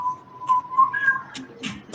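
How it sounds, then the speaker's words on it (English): A single person whistles a short, clear tune alone, the notes sliding steadily and close to the listener with no talking. "whistle a tune"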